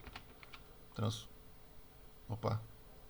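A computer keyboard is pressed for the Ctrl Q shortcut in CorelDRAW. Two brief clusters of soft, close key clicks come about a second and a half apart against a faint background, with a voice nearby.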